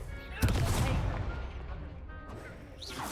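The Confringo fire spell cast in Hogwarts Legacy sounds as a sudden loud blast followed by a roaring, crackling burst that slowly fades, with a voice just before.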